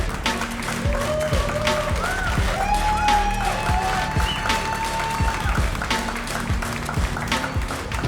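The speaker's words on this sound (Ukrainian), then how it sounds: "Оплески для Віті!" Crowd at a bare-knuckle boxing event applauding a fighter's introduction, steady clapping mixed with cheers and whoops over a low musical bed, moderately loud throughout.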